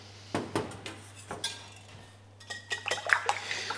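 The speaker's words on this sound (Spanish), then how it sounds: "Vamos a batir los huevos." Eggs being beaten in a bowl: irregular clicks and taps of the utensil against the bowl, sparse at first, then quicker and busier toward the end, fairly close and quiet.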